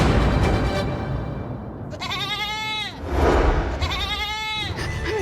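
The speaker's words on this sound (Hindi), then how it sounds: "बकरी वो बकरी की अम्मा" Goat bleating in a Hindi TV comedy scene: two loud, wavering bleats of about a second each, close and prominent over background noise, with no talk in between.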